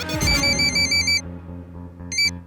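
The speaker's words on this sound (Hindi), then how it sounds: "शेरा को फोन करता।" Outgoing call to a phone that rings back with a repeating electronic ringtone, two loud bursts of bright tonal pulses separated by a pause, over a low hum.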